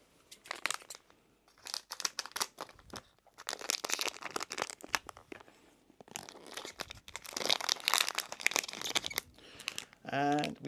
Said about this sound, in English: I have to get my acclaimed scissors out again